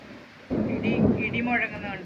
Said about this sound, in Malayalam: ഭയങ്കര ഇടി.